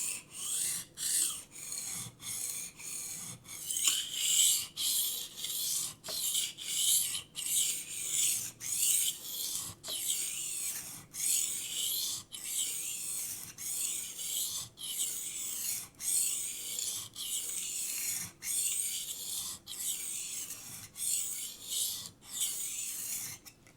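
A knife blade is drawn back and forth with light pressure across the fine side of a diamond sharpening stone, making a rhythmic run of short, even rasping strokes, close and fairly quiet, with no talking.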